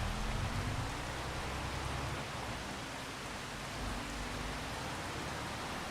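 In Farming Simulator 22 on the Ricci Swamp map, steady game rain makes a dense, even hiss of falling drops throughout, with no other sound over it.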